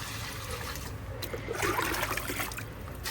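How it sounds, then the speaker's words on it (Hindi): Water poured from a jug onto the base of a large guava tree, a steady splashing trickle running for a few seconds and swelling slightly midway, with no talking. "ये डाला 2 जग, 4 जग डालूंगी मैं इसमें, क्योंकि पेड़ बड़ा है।"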